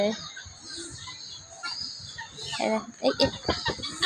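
Hens cluck and call in a village yard where ducks, turkeys and guinea fowl are kept, close by and growing louder toward the end, with voices talking in the background.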